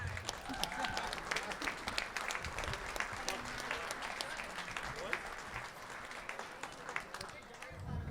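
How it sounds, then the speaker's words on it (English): Wedding guests at a River Roast reception in Chicago applaud the best man with dense, steady clapping across the room, accompanied by chatter and a few cheers, holding at a moderate level throughout. "Let's have a round of applause for the best man"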